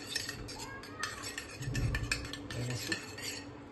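A small spoon stirs turmeric into milk in a vessel, clinking and scraping against the sides in quick, close taps, with a faint low murmur beneath.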